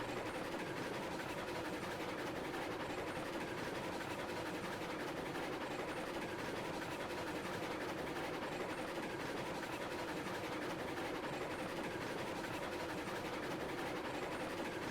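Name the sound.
train rolling on rails in video game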